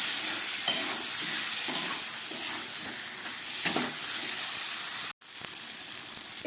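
Potato and prawn curry being stir-fried in a pan, a close steady sizzle with soft rhythmic stirring scrapes and a brief sharp clack near the end, with no voices.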